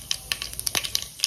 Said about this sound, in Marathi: तडतडले की तडतडल्यानंतरच कढीपत्ता टाका।